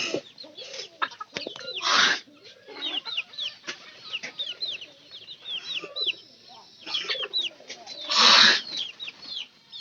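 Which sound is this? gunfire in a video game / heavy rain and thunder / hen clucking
hen clucking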